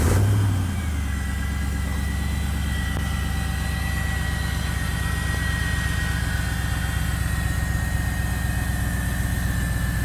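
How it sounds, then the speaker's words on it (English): An LS-swapped DeLorean's engine rumbles through a Borla performance exhaust, a deep, continuous drone after a brief louder blip at the start. "It's a Borla exhaust. I love the tone of this muffler setup."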